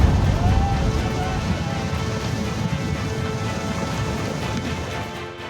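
A flash flood after heavy rain roars down a stream channel in the Sangla valley of Kinnaur, carrying debris and large rock fragments. The rushing wash is continuous and dense, with no voices.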